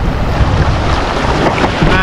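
Strong, large waves and gusting wind at sea, heard from a boat: a loud, continuous roar of surf and buffeting wind noise, with a voice faintly beneath.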